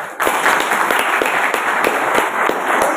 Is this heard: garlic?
no